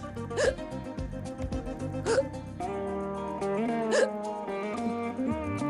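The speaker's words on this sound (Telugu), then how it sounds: "ఎక్కిళ్ళు వస్తున్నాయండి" Three sharp hiccups spaced about two seconds apart, close and clear over steady background music.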